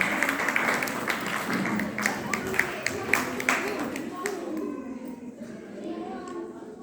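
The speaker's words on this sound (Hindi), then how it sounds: "तालियां बजाते रहे, तालियां माता जी को सम्मान करते हुए।" Applause from an audience at a computer center opening ceremony, honoring a mother, dense steady clapping that thins out and fades over the final seconds.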